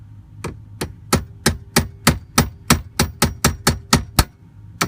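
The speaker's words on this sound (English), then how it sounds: "Give it a tap with the hammer." A hammer taps a metal part while a shifter/gear selector is being replaced on a Ford F250, a steady series of about fifteen sharp, evenly spaced ringing strikes, close and clear.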